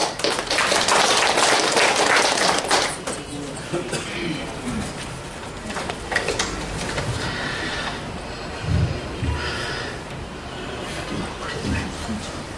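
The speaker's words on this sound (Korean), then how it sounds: "박수로 모시겠습니다." Audience applause at a poetry award ceremony on a literary trip through Manchuria, a dense burst of clapping that fades after a few seconds, followed by someone speaking over a hushed hall.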